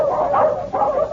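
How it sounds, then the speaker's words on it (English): Dogs bark in two quick, muffled yapping bursts, loud and close within about a second, set in a dramatized story scene. "Then Tom come up with his dogs."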